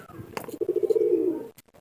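A single pigeon, kept at home and under treatment for an eye problem, gives one close, clear coo: a rolling, pulsing throaty call lasting about a second, then it falls quiet.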